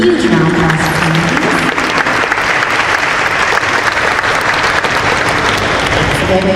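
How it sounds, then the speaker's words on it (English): Loud, sustained applause from an audience at a company stock listing ceremony, a dense continuous clatter of clapping hands filling the whole stretch, with faint voices underneath at the start. "Let's give a huge round of applause."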